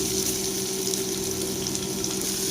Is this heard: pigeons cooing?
no